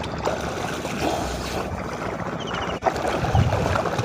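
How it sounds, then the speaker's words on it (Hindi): Steady rushing of river water and waves with wind during a boat ride, a continuous broadband wash that stays loud and unbroken throughout. "ठंडी हवाएं और पानी की ये लहरें"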